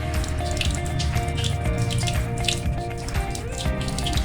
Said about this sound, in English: We can now rinse thoroughly our hands under running water, keeping in mind to have our fingers pointed downward.